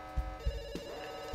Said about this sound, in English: Please pick up the phone.